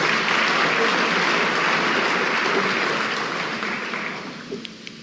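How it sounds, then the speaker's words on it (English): Sustained audience applause at a conference floor session of African ministers, dense steady clapping that gradually thins and fades toward the end. "Can we give him another round of applause"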